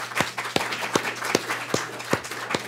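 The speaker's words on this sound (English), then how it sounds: "I think you all deserve a round of applause." A panel audience clapping at a clean energy tax incentives event, a sparse, evenly spaced run of single claps from a small group, close and distinct.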